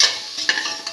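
Spoon stirring salt through a potato rice dish with cinnamon in a sizzling pan, making a few quick scraping strokes over a soft, steady frying hiss, close and brief.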